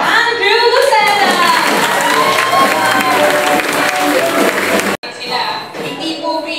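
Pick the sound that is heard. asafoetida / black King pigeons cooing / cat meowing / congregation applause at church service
congregation applause at church service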